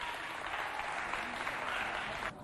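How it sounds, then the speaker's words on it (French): A crowd claps for the supervisors at a children's holiday event, steady moderate applause throughout that drops off abruptly near the end. "On applaudit pour les encadreurs."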